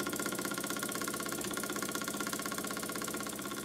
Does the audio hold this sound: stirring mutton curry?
no